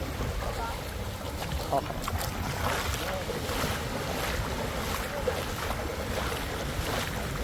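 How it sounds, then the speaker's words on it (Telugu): A boat carries passengers across the sea toward Sindhudurg Fort, with a steady roar of wind, engine and rushing water that stays loud and even from start to finish. "ఇదే పడవ, ఆ పడవలో అయితే పోతున్నాం"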